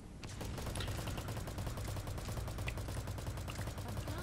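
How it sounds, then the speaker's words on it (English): An automatic gun in the video game Metal Gear Online fires in one continuous, rapid stream of shots, loud and unbroken for the whole stretch with no voices. "Oh, I love this gun. You just fire forever."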